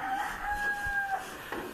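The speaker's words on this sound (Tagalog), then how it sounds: "Ayan yung mga ibon niya, oh." A rooster crows once at a distance, a long two-part cock-a-doodle-doo over faint outdoor background noise, with other birds kept nearby.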